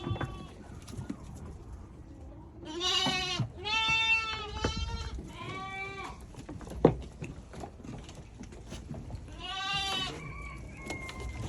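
Lambs bleat several times in a barn, quavering high calls, some overlapping, over a low rumble of background noise.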